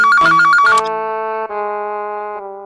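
A telephone ringtone chirps in a fast repeated electronic trill, then turns into sustained melodic tones, loud and close in a quiet room with no talk.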